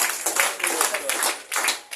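Several sharp hand claps ring out in quick, uneven succession at a talk on beating diabetes, mixed with a speaking voice.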